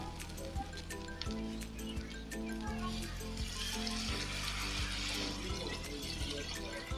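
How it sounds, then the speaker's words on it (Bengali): Water splashing and gurgling as it is poured into a rice cooker pot of stir-fried beef and spices for khichuri, over a steady low background hum with a few knocks. "এবার আমি পানি দিয়ে দিলাম।"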